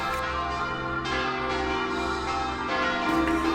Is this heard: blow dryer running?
no